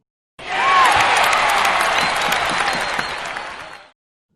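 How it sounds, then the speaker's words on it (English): A burst of applause with cheering from a crowd starts abruptly, holds strong for about three seconds, then fades and cuts off, with no talk over it. "I think I can hear Ian cheering."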